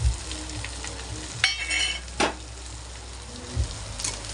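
Potato sabzi with salt and crushed peanut powder is stirred and fried in a pan, a soft sizzle broken by a few scraping, rustling strokes of the spoon, close by and with no talking.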